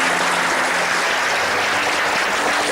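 Audience applause for a homeopathy clinic team, dense steady clapping sustained throughout at even loudness, alone with no talking.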